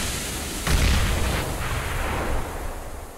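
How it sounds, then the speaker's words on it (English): A grenade blast in Counter-Strike at a DreamHack Open match, a loud low boom about a second in that rumbles and fades over a steady game background, with no speech. "Grenade out!"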